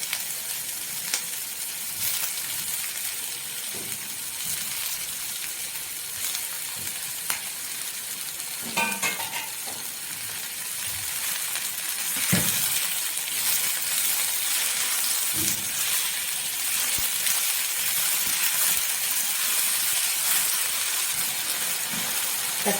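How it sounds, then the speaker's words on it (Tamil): Chopped tomatoes sautéing in a pan for chana masala, a steady broadband sizzle with occasional clattering stirs, moderately loud and continuous, with no voices. "தக்காளி சேர்த்து ஒரு 2 நிமிஷம் இப்போ வதக்கினா போதும்."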